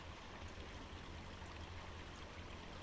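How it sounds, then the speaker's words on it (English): Flowing stream water in the video game Farming Simulator 25, a soft, steady babbling trickle with a low watery rumble underneath, faint and continuous without voices. "Nice flowing water though"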